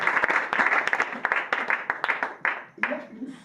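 Congregation at a French-language prophetic church service clapping and cheering, a dense run of hand claps with shouts mixed in, fairly loud and continuous.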